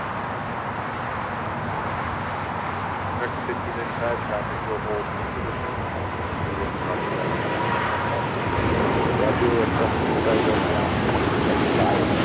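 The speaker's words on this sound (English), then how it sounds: "China Cargo Airlines Flight 222 taking off to Shanghai on the 777 freighter" A China Cargo Airlines Boeing 777 freighter taking off from LAX for Shanghai: sustained jet engine rumble that swells louder toward the end, with a voice speaking over it.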